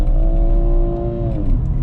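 Close inside a BMW M140i, the engine holds a steady, loud rising-pitched drone during a downshift into first gear, then eases off near the end; no one talks.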